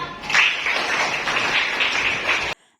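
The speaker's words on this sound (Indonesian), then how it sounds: "Tepuk tangan untuk kita semua." A class of schoolchildren claps together at the end of a lesson, a brief burst of close, dense applause that holds steady for about two seconds before cutting off abruptly.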